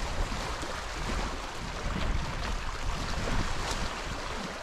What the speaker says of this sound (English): So it looks like I'd just be paddling into wind, waves, and rain.